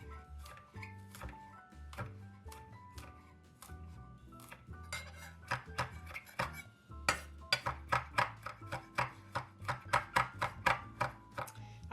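A knife chops a single garlic clove on a board in a home kitchen, a run of close, sharp rhythmic taps that grows faster and louder toward the end, with some clinks of kitchen utensils before it.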